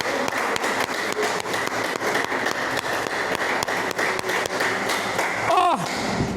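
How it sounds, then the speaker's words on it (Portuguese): A church congregation applauds during a sermon, sustained dense clapping with scattered sharper taps, a brief voice rising near the end. "Pode aplaudir a Ele,"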